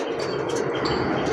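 Pigeons coo and chirp at a shop selling domestic and foreign pigeons, a close, busy murmur of birdcalls over a constant low background hum.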